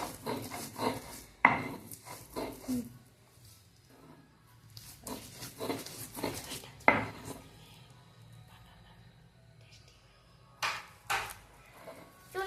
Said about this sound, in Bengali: এখন আমি ভালোভাবে বেটে নেব পটল আর চুনো মাছটাকে বেটে নেব